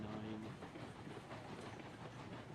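A long train rolling on rails in the railroad game Railroads Online, a steady rumbling clatter with a brief tonal hiss at the start, continuous and fairly even in level.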